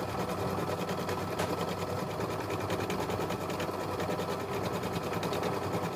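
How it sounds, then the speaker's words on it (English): An embroidery machine stitches lettering onto a quilt block, a steady, fast mechanical whir and needle clatter running unbroken and close at moderate loudness. "we're going to go ahead and stitch out the lettering for squeeze the day"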